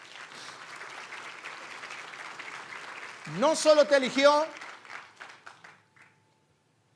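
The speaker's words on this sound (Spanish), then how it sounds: "Denle un fuerte aplauso a Dios por eso." Church congregation applauding during a Spanish-language sermon, a burst of clapping and cheering rising for a couple of seconds under the preacher's loud voice, then fading out.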